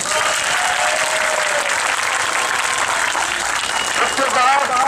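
A crowd at a political gathering applauds loudly and steadily the whole time, with voices mixed into the clapping.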